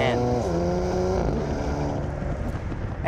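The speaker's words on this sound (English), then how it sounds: "It only gets better if you push this double-barrel shotgun button, which activates the sport's exhaust system, letting the Macan bellow operatically from both ends" 2018 Porsche Macan GTS with its V6 and sport exhaust engaged, a loud rising engine roar that shifts pitch, then eases off into a lower drone, with wind noise.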